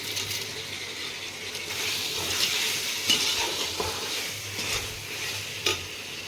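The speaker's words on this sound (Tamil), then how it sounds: "நல்லா இதில் மசாலாலாம் மிக்ஸ் பண்ணணும்" Masala being stirred and mixed into a kilo of beef in a pan: a steady frying sizzle with occasional louder scrapes and knocks of the spoon, close by and with no talking.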